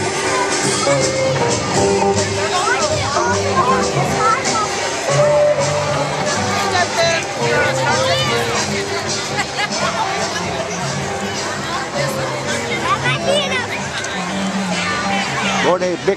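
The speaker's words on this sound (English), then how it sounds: "there's a big crowd here, y'all" A large outdoor crowd at the 2022 Christmas parade in Anderson, South Carolina, fills the air with steady, loud chatter and babble, with occasional whoops and shouts rising from the mix.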